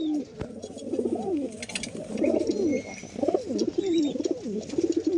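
Pigeons coo in repeated throaty, rolling phrases close by, several birds overlapping in a loft with faint background noise.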